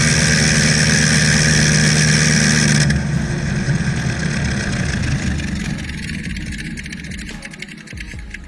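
A single-cylinder aircraft engine of about 100 horsepower runs loudly and steadily nearby, then the tone drops abruptly and continues as a rougher, gradually fading rumble.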